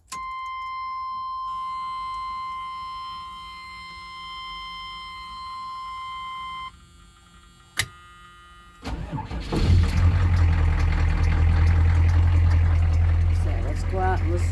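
A bus engine cranks and fires up after a brief pause, settling into a loud, rough, rumbling idle close by, preceded by a steady electronic warning chime.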